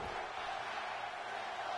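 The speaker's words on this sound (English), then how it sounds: "Crowd cheer for Triple H." A steady wash of arena crowd noise from WWE 2K17 cheering for Triple H, a broad continuous roar that holds evenly throughout without breaks.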